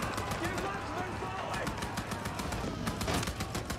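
Rapid machine gun fire and scattered gunshots from a Gallipoli battle scene at Lone Pine in a war movie, dense overlapping bursts at moderate distance, with a voice talking over the combat.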